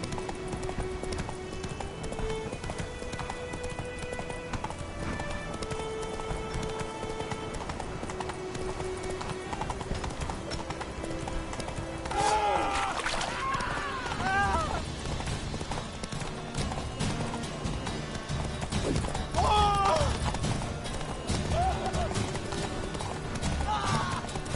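Roach the horse gallops in The Witcher 3, with rhythmic clip-clop hoofbeats running throughout and occasional whinnies over steady background game music.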